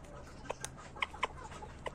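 A yellow Aseel rooster lets out a few faint, short clucks at irregular intervals over quiet background noise, with no talk.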